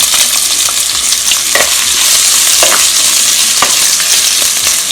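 Finely chopped onion sizzles steadily in hot oil for a fish mappas, a dense continuous hiss with a few brief stirring scrapes, close and loud, with no voices.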